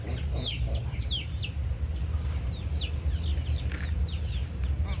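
Chickens cluck and chirp in short bursts over a low rumbling background, several birds calling close by.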